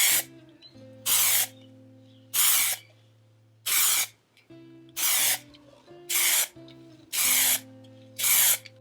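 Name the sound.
spraying a light sealant coat over inks on a resin geode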